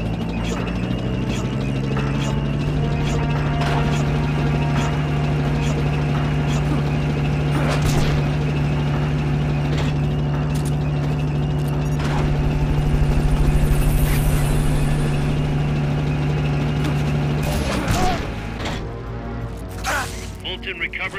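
A helicopter engine in the video game Metal Gear Solid: Peace Walker, a loud steady rotor drone with a sustained low tone that holds for most of the stretch, then cuts off near the end amid clicks and mechanical clatter.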